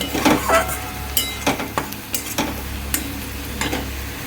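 Spice tempering (tadka) sizzling in a kadai, with a close crackling hiss broken by repeated spoon scrapes and clinks against the metal.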